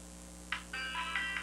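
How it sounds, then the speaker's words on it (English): A phone ringtone plays a few short, bright electronic chime notes in quick succession. It is fairly faint over a low steady hum, with no talking. "Ringtone."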